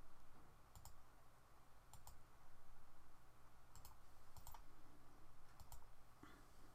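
Computer mouse clicks while drafting in AutoCAD: sharp, close clicks in quick pairs and small clusters, spaced a second or so apart, over a quiet background hum.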